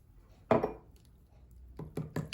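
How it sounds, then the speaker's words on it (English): A utensil scrapes and knocks against a pot while chicken and vegetable casserole ingredients with tomato paste are stirred. One sharp clank is followed by a run of quicker taps and scrapes, close and fairly quiet, with no speech. "I'm gonna mix all these ingredients"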